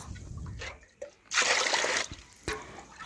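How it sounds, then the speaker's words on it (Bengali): Water pours onto raw ration rice in a bowl, heard as short splashes and a loud, rushing pour lasting under a second, followed by a brief final splash, close to the microphone. "আমি চালটাতে জল ঢেলে দিচ্ছি পরিমাণ মতো"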